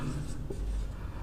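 Marker or chalk writing a sentence on a classroom board, a short scratchy stroke sound close by, with a teacher's voice faintly present.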